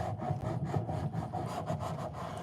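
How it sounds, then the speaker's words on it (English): Rhythmic back-and-forth scraping strokes, steady and close, as sandpaper is rubbed over cardboard, about a dozen passes with no talking. "So I'm gonna be just sanding this down."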